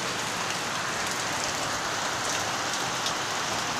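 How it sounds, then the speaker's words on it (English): Heavy rain pours down steadily on outdoor surfaces during a cold downpour in Bulgaria, a dense continuous hiss with no voices. "I don't know if you can see it, but it's raining a lot."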